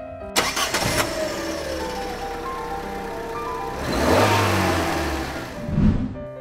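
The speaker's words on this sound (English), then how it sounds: "C is for Car." A car engine cranks over with a few sharp clicks, catches and settles into a steady idle, then revs up loudly twice in swelling surges, heard close with no talking.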